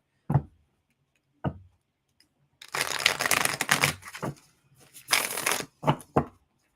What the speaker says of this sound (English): I just want to make sure I shuffle them up good